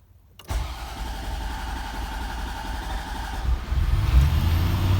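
A 1991 Corvette ZR-1 with a stalling problem cranks and fires up, then runs at a steady idle that swells louder near the end, close by with no speech.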